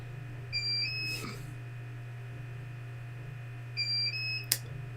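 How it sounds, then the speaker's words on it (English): A UPS battery backup on an electronics workbench gives two short, high electronic beeps a few seconds apart, fairly faint over a steady low mains hum, with a click or tap after the second beep. "That's why I've got this beeping going on."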